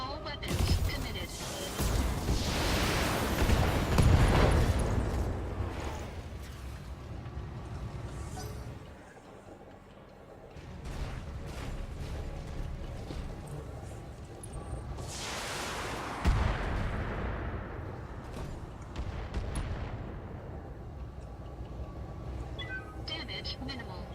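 Heavy mech weapons fire in the BattleTech video game, with booming explosive blasts and rumbling impacts that swell, fade and return across a long sustained barrage.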